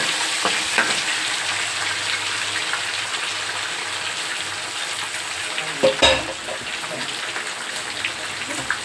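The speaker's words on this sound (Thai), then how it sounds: "ยังเหลืออีกสองชิ้นนะคะทอดไป ทอดให้หมดเลยค่ะเหลืออีกสองชิ้น" Pieces of fermented Thai sour fish (pla som) fry in hot oil with a steady, dense sizzle and crackle throughout, plus a brief louder spatter near the end; no voices.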